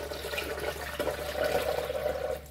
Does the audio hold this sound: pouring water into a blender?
yes